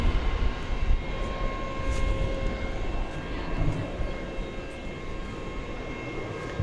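A Volaris Airbus A320 on arrival at DFW from Guadalajara at night gives off a steady, moderate jet engine rumble with a faint whine above it, gently swelling and easing.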